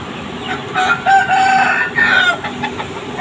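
Chickens cluck and squawk close by, with several overlapping calls rising and falling in busy bursts over a low farmyard hum.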